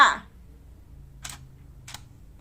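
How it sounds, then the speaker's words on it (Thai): Two quick, faint camera shutter clicks, about a second apart, in a quiet room after a short bit of sound at the start. "ได้ยินเสียงกล้องไหมคะ ทุกคนดังแชะแชะเมื่อกี้นะคะ"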